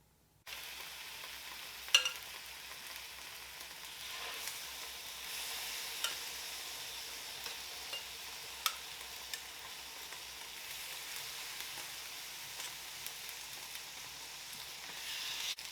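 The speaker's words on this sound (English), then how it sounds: "I'm going to continue to cook my poblanos." Poblano peppers cook in a pan with a faint, even sizzle, steady and quiet throughout with occasional small pops and ticks.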